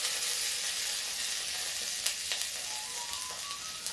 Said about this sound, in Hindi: तेल हो गया है, तो तेल में हम डाल देते हैं थोड़ी सी मेथी